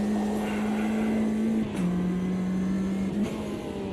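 Turbocharged race car engine in a sim racing game, a steady droning hum that dips briefly in pitch at a gear change and then holds level, with no talking.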